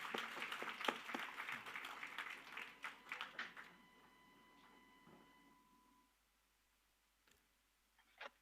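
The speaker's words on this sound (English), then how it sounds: "A big round of applause for all of them." A small group at a hackathon grand final claps briefly, the scattered applause thinning out after a few seconds into near silence with a couple of faint clicks.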